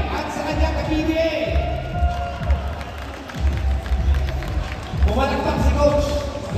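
A studio audience at a PBA dance show breaks into mixed clapping and cheering to vote for Troy's team, with crowd noise swelling and dipping over several seconds under busy background sound.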